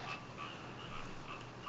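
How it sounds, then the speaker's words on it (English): Frogs croak somewhere outdoors in the background, faint repeated chirping calls at a loose, steady rhythm over soft ambient noise. "Is there frogs in the background, Henry?"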